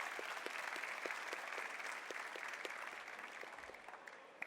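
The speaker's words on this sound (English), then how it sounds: "So a round of applause for everyone on the panel." Audience applause for a conference panel: steady, moderately distant clapping from a seated crowd, fading slightly toward the end.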